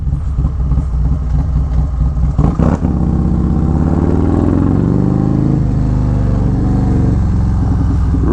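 A Harley-Davidson performance bagger motorcycle with a Kraus setup rides at steady speed, its engine a loud, continuous low rumble with a brief clattering surge near the start.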